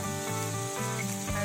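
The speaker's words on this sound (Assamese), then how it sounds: "এনেকৈ কেৰাহীত দি দিব। ৰঙচুৱা হোৱালৈকে ভাজি থাকিব।" Spring potatoes frying in a wok, a steady close sizzle lasting about a second and a half with tonal sounds running beneath it and no voices.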